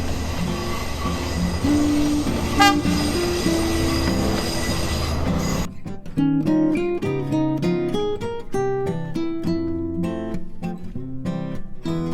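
A train crosses near Nine Arch Bridge in Ella, Sri Lanka, with a loud, close rumble and squealing wheels for about six seconds before music takes over and buries it.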